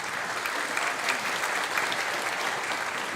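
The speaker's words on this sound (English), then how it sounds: "let's give him applause" Audience applause for Jeff Blackwood, the electric guitarist, at a Christmas concert: a steady, dense wash of clapping that holds even for about three seconds, with no talk over it.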